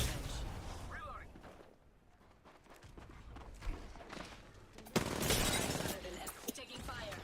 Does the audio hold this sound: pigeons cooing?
no